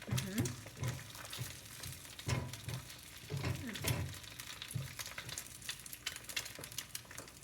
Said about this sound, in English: I like the sound of sizzling.